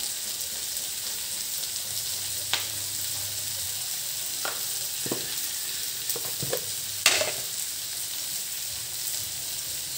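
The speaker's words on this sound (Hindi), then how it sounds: "इसको एकदम लो फ्लेम पर रखेंगे, क्योंकि हमें फ्राई चाहिए" Vegetables sizzle gently in a pan over a low flame, a steady soft hiss broken by a few scraping stirs and clinks of a spoon, with no talking.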